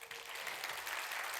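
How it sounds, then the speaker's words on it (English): An audience at a keynote event claps together on request, a short, dense burst of applause from one side of the room that holds steady without a pause. "Can we try this side, please? Clap, clap."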